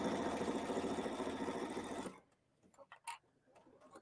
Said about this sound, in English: I will just align that edge with of the foot with the edge of the sashing and stitch